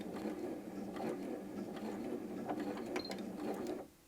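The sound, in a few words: Janome M100 QDC sewing machine sewing at slowest speed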